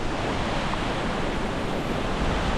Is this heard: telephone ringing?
no